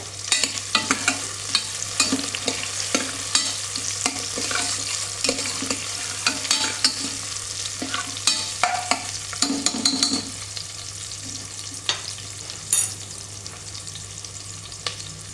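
Onions frying in a pan until brown, a loud steady sizzle broken by frequent scraping stirs and clinks of a spoon against the pan for about fifteen seconds, with no voices.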